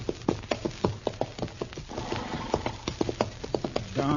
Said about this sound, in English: Darn horse.